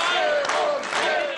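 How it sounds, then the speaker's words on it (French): Crowd in a small village festival hall during a turbulent mayoral handover, a loud continuous mix of applause, whistles and raised voices, dense and close throughout. "la passation de pouvoir a été plutôt agitée entre applaudissements et sifflets"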